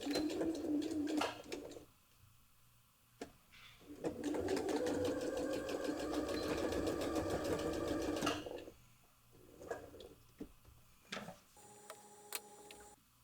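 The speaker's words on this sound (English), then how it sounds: "And then sew it at 5/8." A sewing machine runs a 5/8 inch seam through folded ribbon for a zipper bow clutch, a fast steady mechanical whir of stitching lasting a few seconds between quieter handling clicks and pauses.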